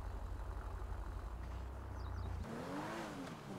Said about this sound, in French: Je démarre le véhicule